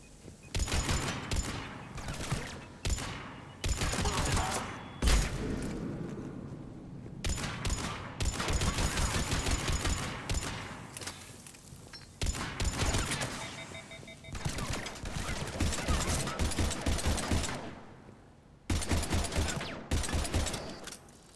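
Sustained automatic gunfire in the Mass Effect 3 video game, dense bursts of shots pounding almost continuously with short gaps, loud and close, with no speech.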